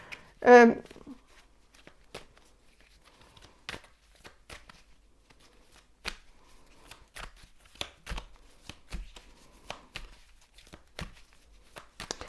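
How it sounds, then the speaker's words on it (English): Tarot cards shuffled close up: one brisk riffle followed by scattered soft taps and slides of cards being handled, quiet and intimate. "I'm going to shuffle and see what the cards have to say"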